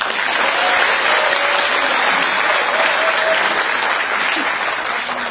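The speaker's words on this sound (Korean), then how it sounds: "7명 우리 현역 의원님들께 박수 한번 보내주세요." Steady, dense applause from a large crowd at a South Chungcheong party rally fills the whole stretch without a break, loud and close.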